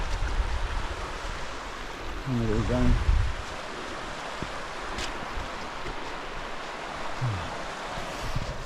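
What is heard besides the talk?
river flowing along a hillside walk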